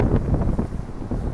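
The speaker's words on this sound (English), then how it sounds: "I hope you can hear me over the wind" Wind buffets the microphone in low, rumbling gusts in woods, a brief close burst of muffled blustering noise.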